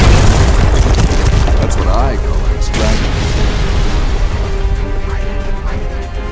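Rockfall explosion in the Deadfall Adventures PC game: a loud, sustained booming rumble with crashing debris that fills the whole stretch and slowly eases off, with no talk over it.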